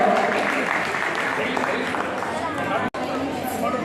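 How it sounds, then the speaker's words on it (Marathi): Audience at a religious costume competition prize ceremony at a Jain temple in Parbhani clapping for a young winner, dense steady applause mixed with crowd chatter, loud and close, with a brief dropout near the end. "सर्वांनी टाळ्या वाजवून तिला अभिनंदन करावं"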